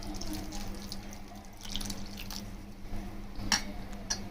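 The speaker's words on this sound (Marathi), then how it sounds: "आणि पाणी ह्याच्यामध्ये घालायचं आहे जास्त." Water pours into a pot holding dal khichdi ingredients, a quiet splashing trickle with a few drips, close and low in level, with no speech.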